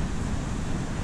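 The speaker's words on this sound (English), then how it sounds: "Those are some big waves." Big ocean waves crash at a rocky jetty on the New Hampshire Atlantic coast, a dense, roaring wash of surf mixed with wind buffeting, loud and continuous for a brief moment.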